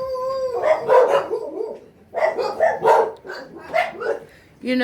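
Several dogs bark in quick bursts, yapping and overlapping in two rounds separated by a short pause, fairly close.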